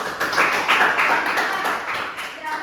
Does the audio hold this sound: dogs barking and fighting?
no